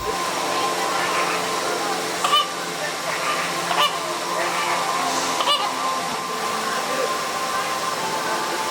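Flamingos at SeaWorld Orlando at night give repeated goose-like honks over a steady background of rushing water, with people talking faintly.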